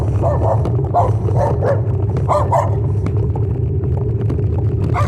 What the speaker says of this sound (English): that's actually a dog barking at me.